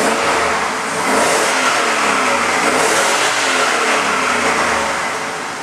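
A 2006 Chevy truck's noisy 6.0L engine with 229K miles revs hard and holds high, bouncing against its rev limiter with a steady roaring drone throughout, no voices.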